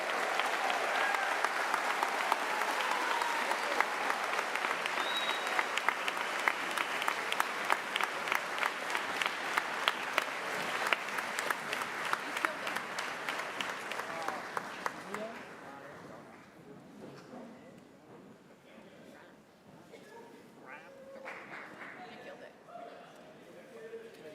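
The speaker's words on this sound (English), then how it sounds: "Let's give these scholars one more round of applause." A graduation convocation audience gives sustained applause for the class of 2023 academic scholar medal recipients, with dense clapping from a large crowd that fades and thins out after about fifteen seconds.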